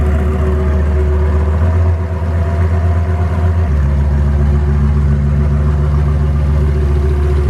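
A modified Lamborghini engine idles steadily at about 1,000 RPM at close range, a constant low rumble with a slight shift in pitch partway through, no voices.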